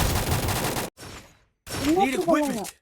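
Gunfire in a Free Fire ranked squad match: a burst of rapid gunshots, then a short gap and a second round of firing with game sounds, the shots fairly close and sharp.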